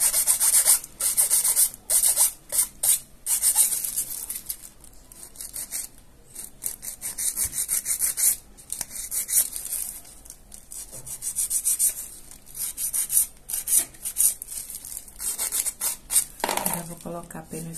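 Polygel nail being filed with a nail file, a steady scratchy rasping of repeated short strokes, close and fairly loud, running throughout without talk.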